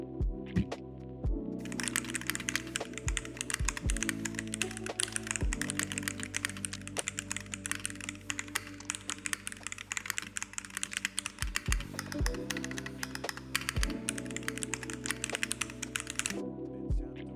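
Typing on a MelGeek MADE68 Pro keyboard with a plastic body: a dense, continuous run of close, crisp keystroke clicks lasting the whole stretch, with no talking over it.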